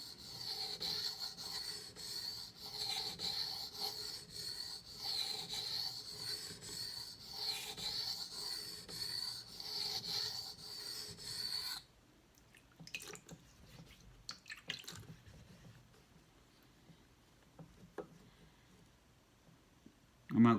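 A knife is drawn back and forth across a whetstone in a run of regular rasping strokes for about twelve seconds, then quieter scattered scrapes follow.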